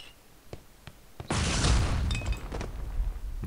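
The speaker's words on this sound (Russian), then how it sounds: "Взрывная волна" A loud explosion and rolling blast wave go off in an Indiana Jones video game set in Istanbul, a sudden broad roar that swells and then trails off with debris rumble after a few faint clicks.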